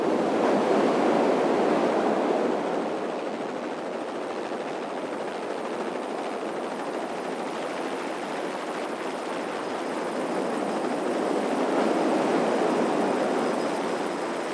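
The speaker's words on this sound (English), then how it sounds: "Let's try something military now and go for beach" Military beach soundscape with a steady helicopter-like rotor drone over washing surf and wind, a continuous, even wash of noise that swells slightly at the start and end, with no voices.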